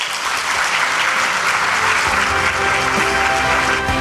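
An audience at a Hyundai Motor Group investment presentation for Saemangeum gives loud, sustained applause, a steady wash of many hands clapping with no letup.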